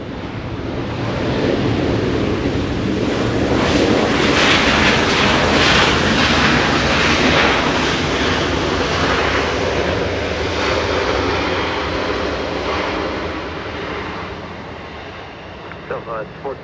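A 25-year-old Southwest Boeing 737-700 jet airliner arriving at LAX from San Jose makes a loud, sustained broadband engine roar that swells and then slowly fades over the course of the clip, with faint talk underneath.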